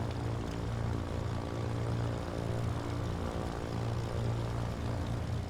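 A Cessna 310R twin-engine plane's piston engine runs at a steady throbbing idle just after start-up. The propeller drone is even and continuous, with no voices.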